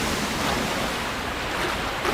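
Rushing whitewater along a canoe slalom course in a London 2012 Olympic game, a steady loud churning wash with no voices.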